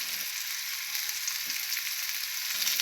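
Shrimp frying in oil in a pan, a second batch: steady, dense hissing sizzle, close and fairly quiet, with a few faint stirring clatters and no talking.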